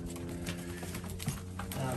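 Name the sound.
racing pigeon hen cooing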